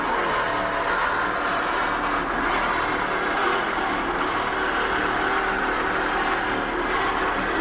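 Offshore racing powerboat engines roar and throttle steadily during a 1994 Key West World Championships race, a loud continuous broadband drone with no talk over it.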